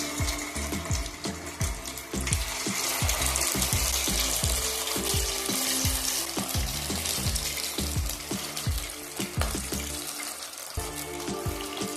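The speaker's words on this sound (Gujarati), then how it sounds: "તેલ ગરમ થઈ ગયું છે તો તેલમાં ફ્રાય કરી લઈએ." Farali dahi vada balls frying in hot oil over a medium flame make a loud, continuous bubbling sizzle with rapid crackling pulses, close and steady throughout with no talk.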